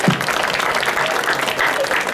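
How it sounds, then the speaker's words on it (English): A crowd at a high school marching band's end-of-camp show claps and cheers steadily, dense and even from start to finish. "give them a round of applause"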